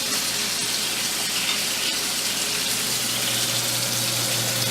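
Chopped onions go into a pot for pot roast and sizzle in hot liquid with a steady, dense hiss and crackle. It stays loud and even throughout, with no talk.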